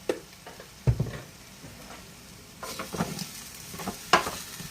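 Carne guisada stew is stirred in a pan, soft sizzling beneath a few scattered clicks and scrapes of a utensil against the pan, close and moderate in level with no speech.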